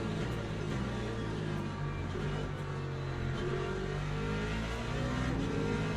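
LMP2 race cars at Imola in a racing sim, several engines droning and revving together in a continuous close roar, pitches rising and shifting as they battle, without voices.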